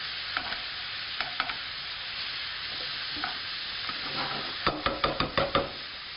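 Lamb cutlets sizzle in a frying pan with a steady hiss, broken by scattered knocks and a quick run of scraping, clattering stirs near the end.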